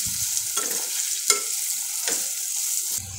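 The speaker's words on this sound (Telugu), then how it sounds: "దీన్ని ఒకసారి మంచిగా మిక్స్ చేసుకోవాలి." A spoon stirs masala in a hot pan, giving several scraping sweeps over a steady sizzle and frying hiss, close and clear, with no talk.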